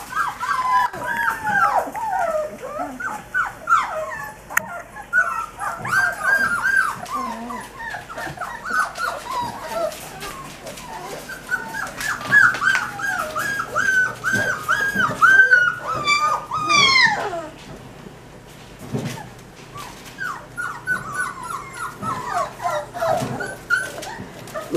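Young puppies whimper, yip and squeal while playing, close and busy, with high whiny cries overlapping through most of the stretch, brief quieter gaps and a few soft thumps of movement.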